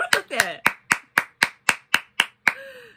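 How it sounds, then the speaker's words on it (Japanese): One person claps close to the microphone while reacting to a drum performance, about ten sharp, evenly spaced claps, with a brief voice at the start and a short vocal sound near the end. "こんなん拍手するって。"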